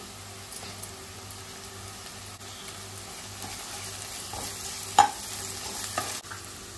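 Onion softened in a pan with ginger and garlic added, frying with a steady low sizzle and occasional stirring clicks, a louder scrape near the end; home cooking for prawn masala.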